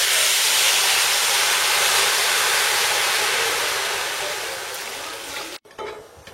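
Water for pulao boiling in a pot, a loud continuous steamy hiss and rolling bubble that fades slightly toward the end before a short break and a few clatters.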